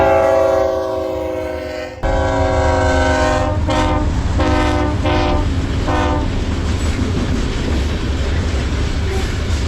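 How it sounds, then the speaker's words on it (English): A BNSF grain freight train rolling past with a GEVO locomotive pushing at the rear, loud and close, its horn sounding in several blasts over a steady rumble of wheels and railcars. "After that grain train went by"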